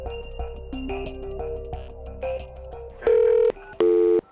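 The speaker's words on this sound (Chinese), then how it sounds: "我们根据苦主给我们的两个电话号码逐一试打" A telephone number is dialed as a series of short, clear keypad tones in a quick irregular sequence, with two longer, louder tones at the end, with no speech.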